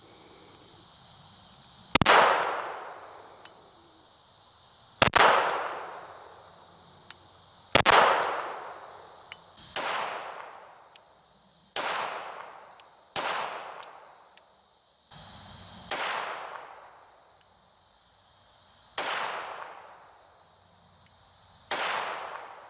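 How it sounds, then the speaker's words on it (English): A Glock 49 pistol fitted with a Radian Afterburner compensator fires eight sharp, loud shots at uneven intervals outdoors in the dark, each with a short echoing tail, while crickets chirp steadily in the background. "we've got the compensator on the Glock 49 with low light"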